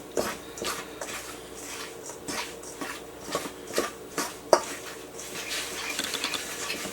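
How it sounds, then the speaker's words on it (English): A utensil lightly mixes vegan pina colada scone batter with lime juice in a bowl, giving soft irregular clinks and scraping taps at close range with no talk. "a tablespoon of lime juice, kind of lightly mix that."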